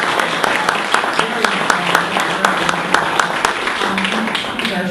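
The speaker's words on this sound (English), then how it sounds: "One more round of applause for our speakers." Audience at a local media talk in Los Angeles applauds its speakers with a dense, sustained round of clapping, loud and even throughout, with a few sharper individual claps standing out.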